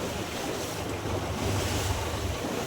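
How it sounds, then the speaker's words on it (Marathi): Steady strong wind buffets the microphone over rushing sea surf aboard a fishing boat, a continuous loud roar with low rumbling gusts and no voices. "वारा बघा किती आहे वारा."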